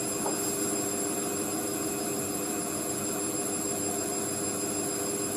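An Indesit IWC6165 washing machine spins at 400 RPM, a steady loud drone with a constant whine and a mechanical rumble that never changes, with no voices.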